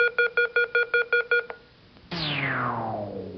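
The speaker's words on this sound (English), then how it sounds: "And this sound, the end of each quarter." A quiz show's electronic signal marking the end of a quarter in a 1990s high school academic challenge: a quick run of eight identical beeps, a short lull, then a loud falling synthesized sweep that fades out.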